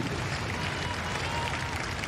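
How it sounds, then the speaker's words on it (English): Spectators along the riverbank at the Henley regatta clap steadily for passing rowers, a dense, even patter of applause held at a moderate distance for a couple of seconds. "Clapping the athletes as they pass them."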